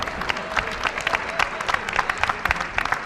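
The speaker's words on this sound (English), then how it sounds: "Give all our candidates a big applause." Audience at a D.C. mayoral candidates forum claps for the candidates, a brisk, fairly loud patter of many hands filling the whole moment, with a few voices faintly mixed in.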